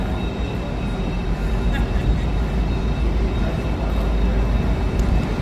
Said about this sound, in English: there's that train that was coming in that I'd mentioned